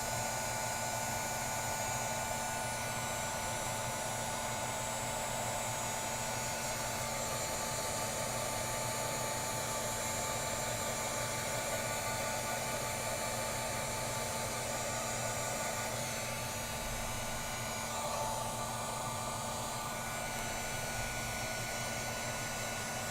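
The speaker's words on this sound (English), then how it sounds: "I'm just going to heat set this" An electric heat tool blows a steady, unbroken whir and hiss at close range for a long stretch, heat-setting paint on a mosaic butterfly, with no talking.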